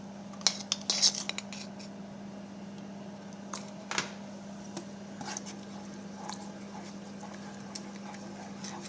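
A spoon scrapes and clinks against a pot while roast pork sauce made with white wine and veal stock is stirred, brief metallic taps scattered over a steady low hum, fairly quiet and without talk.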